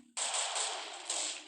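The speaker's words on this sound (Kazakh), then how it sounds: "О, керемет атыс." Gunfire in the video game Counter-Strike, a sudden loud burst of rapid shots that starts abruptly and carries on continuously for over a second.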